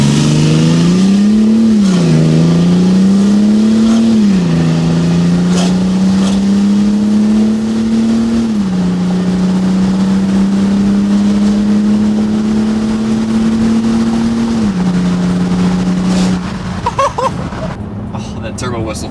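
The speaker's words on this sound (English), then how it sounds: "Oh, that turbo whistle." A BMW X5 diesel engine revs repeatedly, its loud droning tone rising and falling in swells before settling into a steady hold, with a turbo whistle over it, then cutting off near the end.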